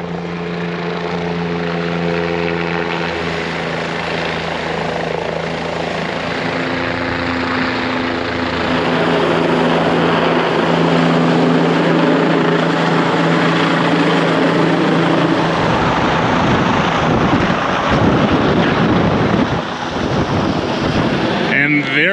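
A helicopter roars loudly and close throughout, rotor thudding steadily with heavy wind buffeting the microphone.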